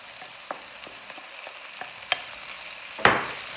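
Chicken and chickpeas are stirred in a pan, soft frying sizzle underneath a series of spaced utensil clicks and scrapes, ending in a louder knock against the pan, close and without voices.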